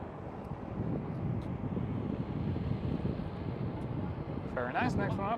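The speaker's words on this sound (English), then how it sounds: "And there goes the EasyJet A320." An EasyJet Airbus A320 jet at Schiphol airport gives a steady, broad roar throughout, with a voice speaking briefly near the end.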